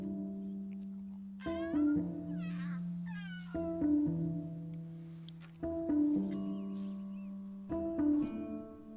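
A cat meows several times, high and wavering, over a looping backdrop of steady repeating tones that swell every couple of seconds.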